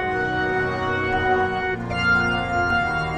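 An organ playing notes in the scale over a sampled drill beat, with dense sustained chordal tones continuing steadily throughout at a fairly loud level.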